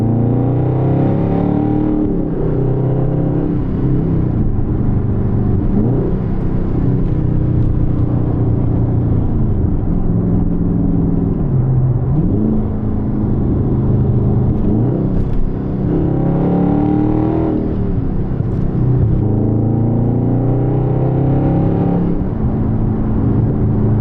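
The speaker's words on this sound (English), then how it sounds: "it just sounds so good, especially with just like the muffler chopped off" A car with its muffler chopped off rumbles loud and close, its exhaust rising and falling through repeated revs over a steady deep idle drone, with no talking.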